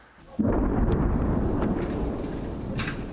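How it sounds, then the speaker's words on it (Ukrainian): A heavy, deep boom of a heavy artillery shell explosion erupts suddenly and rumbles on for a few seconds, rolling through the air in Kherson. "Розриви важких калібрів, що кілька хвилин, а то й частіше пронизують повітря."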